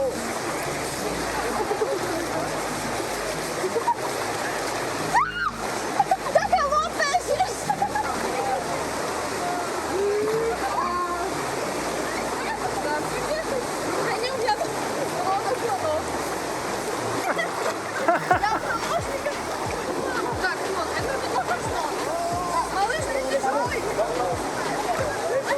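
Water splashes and churns steadily in a river near Chiang Mai in northern Thailand as elephants are bathed, with a continuous wash of flowing water and scattered louder splashes throughout.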